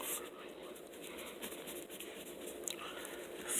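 Soft scratchy pen strokes sketching a heart diagram by hand, a faint continuous scribbling with small pauses, close but quiet and without talk.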